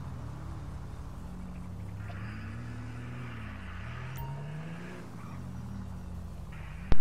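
A Declasse El Camino-style car in GTA 5 revs its engine during a police pursuit, a steady droning growl whose pitch rises and falls, with a sharp loud burst at the very end.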